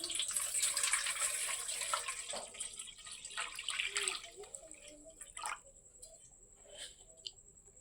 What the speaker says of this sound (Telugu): ఇప్పుడు వీటిని నీట్గా కడిగి కట్ చేస్తాను.